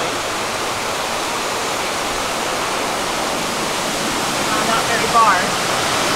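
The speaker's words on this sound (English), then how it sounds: "So there's just a river." River flowing through a remote mountain village in Japan, a steady broadband rush of water that holds constant throughout, with a brief faint voice near the end.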